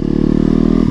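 A dirt bike roars close by, its engine note steady and loud with a rough, pulsing throb across the whole moment.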